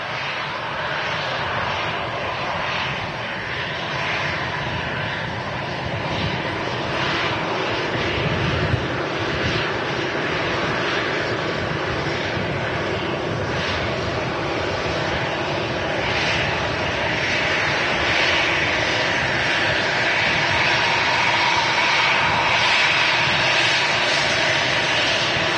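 An easyJet Airbus A320 jet airliner rolls for takeoff at Manchester Airport, a loud sustained roar of jet engines with broad rushing noise building steadily from a distance and holding throughout, with no talking.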